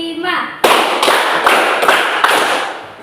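After a short spoken chant, a classroom of students claps in loud, sharp unison, giving about five evenly timed beats with voices carrying over the rhythm.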